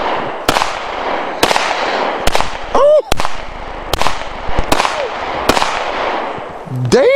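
Shots from a 9 mm pistol at an outdoor gun range: about eight sharp, loud reports at irregular intervals, with a brief voice exclaiming between them.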